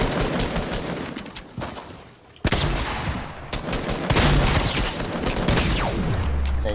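Rapid bursts of automatic gunfire from a shooting video game, loud and close, firing in repeated volleys with a brief lull partway through and no talking over it.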